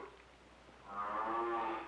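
Cattle low in the cattle yards at a state fair in Little Rock, Arkansas: after a faint start, a loud, sustained moo with harmonic tones rises and holds near the end, with no talking.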